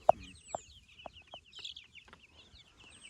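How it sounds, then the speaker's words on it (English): A few short clucks from egg-laying chickens nearby, spaced irregularly, with faint high chirps in the background. "Egg-laying chickens."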